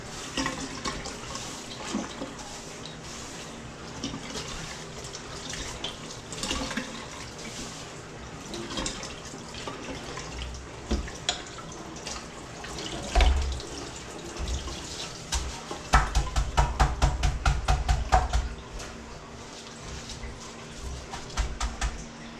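Water is poured and splashed over a kitchen surface during cleaning, an uneven running and splattering wash that grows louder in bursts toward the end, with no voices.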